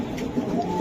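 Racing pigeons cooing in a loft, soft low throaty coos rolling over one another, fairly close, with a brief louder burst near the end.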